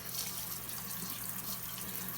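A kitchen tap runs cold water over freshly boiled pasta shells, making a steady, faint splashing rush that continues unbroken with no talking.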